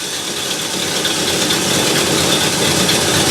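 Ford Galaxie V8 idling steadily while its Holley carburetor is being adjusted, a close, constant rumbling engine with rattle and no speech.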